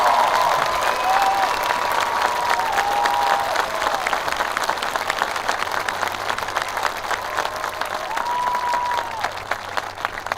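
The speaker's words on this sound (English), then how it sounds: "Let us give these young adults a round of applause to show our appreciation." Sustained audience applause fills a high school graduation ceremony, a steady dense wash of clapping from a large crowd, with faint voices and a few tonal whistles rising above it throughout.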